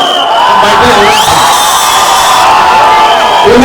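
Audience at a film promo event for the movie Thamma cheering and applauding: a dense, loud roar of whoops and shouts, continuous and close.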